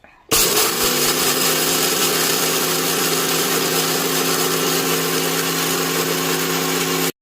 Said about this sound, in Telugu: అయితే మిక్సీలో వేసుకున్నాను. మిక్సీ పట్టేసుకుందాం.